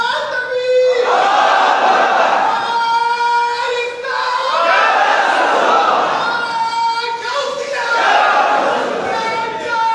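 A large crowd at Gausul Azam Railway Jame Mosque in Shahjahanpur, Dhaka, chants a religious slogan in unison, loud and near, in about three long rising-and-falling waves.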